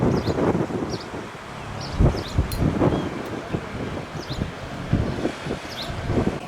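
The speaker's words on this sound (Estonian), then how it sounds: "Päris kõva tuul on meil." Strong, hot wind blowing outdoors in 38-degree heat somewhere in the Balkans, a steady roar of wind noise buffeting the microphone with gusty surges and rustling throughout, no one speaking.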